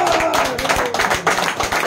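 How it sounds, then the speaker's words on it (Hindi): A group claps at a birthday celebration, loud and close, with uneven overlapping hand claps and a voice briefly audible under them. "राहुल सर के लिए ताली एक बार।"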